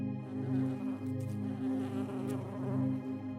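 Steady honeybee-like buzzing drones on throughout, a continuous close hum that swells and dips slightly in loudness, with no talk over it.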